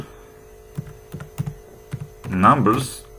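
Several separate keystrokes tap on a computer keyboard during Java programming, sparse and close over a steady electrical hum, followed by a brief spoken voice.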